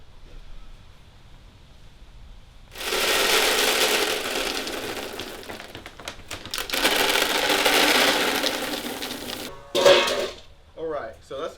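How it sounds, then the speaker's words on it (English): Dry kibble dog food pours and rattles into bowls in two long, loud rushes of clattering pellets. A few shorter scrapes and knocks follow near the end. No one speaks over the pouring. "that's the first layer of actual dry food"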